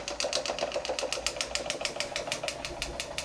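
An American Weeden model 43 toy steam engine running down after the gas is shut off, its rapid, even mechanical clatter and chuffing repeating steadily at close range with no talk.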